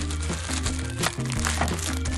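A strap is pulled out of a plastic bag, giving continuous crinkling and rustling over a steady low background hum.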